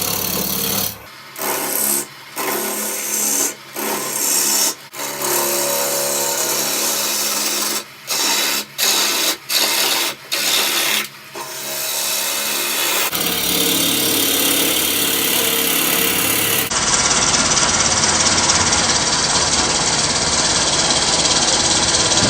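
A wood lathe spins at 1200 RPM while a tool hollows a natural edge bowl, giving a close, continuous scraping and whirring cut broken by short pauses, then a steadier, denser roar of cutting toward the end.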